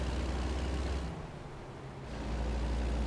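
A truck drives in American Truck Simulator, its engine a steady low rumble with a brief dip in level midway before rising again, with no talk over it.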